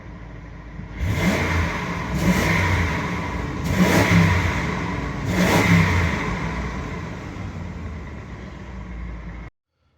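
An old junk car with no rev limiter, its engine revved hard to redline in four loud, rising bursts, each dropping back before the next, then cutting off abruptly.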